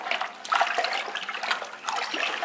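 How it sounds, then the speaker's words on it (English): Liquid coffee wine mixed with yeast is stirred in a container, giving continuous close sloshing and swirling water sounds with small splashes, moderately loud and without talk. "And we're going to stir it around."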